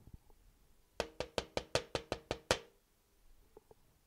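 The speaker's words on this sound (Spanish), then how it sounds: "tocó la puerta" Nine quick, evenly spaced knocks on a door ring out clearly in a steady rhythm, followed by a couple of faint taps in a quiet room.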